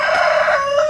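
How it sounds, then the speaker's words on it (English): A hen squawks loudly and close by while protecting her chicks, one harsh, drawn-out call lasting about a second and heard alone. "if you hear those chickens squawking in the background, that's actually the mother protecting her chicks"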